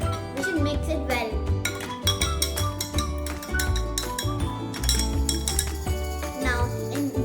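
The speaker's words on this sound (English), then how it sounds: "add 2 spoons of salt. We should mix it well." A spoon stirs salt into water in a glass, giving repeated bright clinks and tinkles against the glass in an uneven rhythm, with voices, including a child's, alongside.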